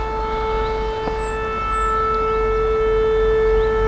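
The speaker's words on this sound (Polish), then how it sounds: "kopalnia pracuje, będą strzelać trzy syreny i wybuch." A steady, loud mine warning siren before blasting, holding one pitch throughout, sounding alone over a low background rumble.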